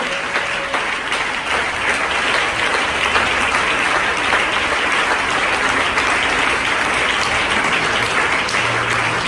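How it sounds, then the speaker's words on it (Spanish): Church congregation applauding the Lord during a sermon: dense, sustained clapping from many hands, steady and fairly loud throughout with no break. "Ese aplauso al Señor"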